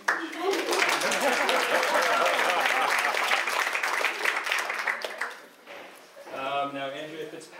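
Steady applause from a panel discussion audience fills several seconds, then fades as a single voice begins speaking.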